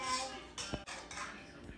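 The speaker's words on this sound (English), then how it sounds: "Jello pudding. It's not done. You gotta still mix it." Jello pudding being mixed in a bowl, with a few clinks and scrapes of a utensil against the dish over a quiet background, close and soft.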